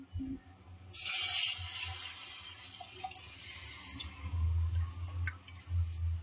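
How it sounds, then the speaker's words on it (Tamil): Tamarind water pours with a splashing rush into a pot of fish curry, followed by low bubbling and a few light clinks nearby. "இப்போ நம்ம ரெடி பண்ணி வச்சிருக்கிற இந்த புளி தண்ணியை நம்ம ஆட் பண்ணிக்கலாம்"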